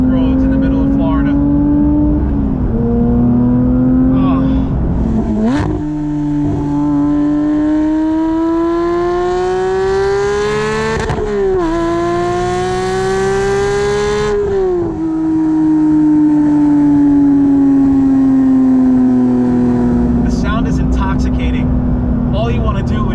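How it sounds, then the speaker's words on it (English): A Porsche GT3 engine revs hard on Florida back roads, its high, sustained howl rising and falling as the revs climb and drop, loud and close throughout, with a voice talking over it. "I am revving the car."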